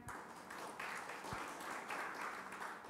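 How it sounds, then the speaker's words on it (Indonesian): Congregation of GBI Baitania church applauding during a Sunday worship service, a steady, dense burst of many hands clapping at moderate distance, sustained for about three seconds with no talk over it. "Beri tepuk tangan yang meriah."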